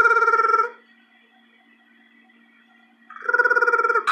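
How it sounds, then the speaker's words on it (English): A phone ringtone sounds in two loud, close bursts of rapid warbling electronic trills, the first in the opening half second and the second near the end, with a faint steady hum in the quiet between. "My phone's ringing."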